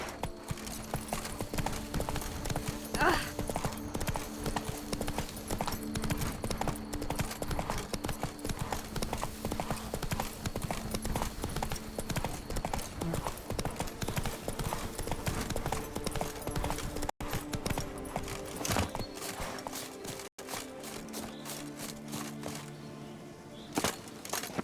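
Roach the horse galloping in The Witcher 3: Blood and Wine, a rapid steady clip-clop of hooves running close, continuous with brief cracks and fading toward the end.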